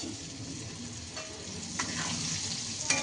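Raw mango pieces fry in oil with chili powder and salt, a steady low sizzle with a few soft scraping stirs, close and quiet throughout.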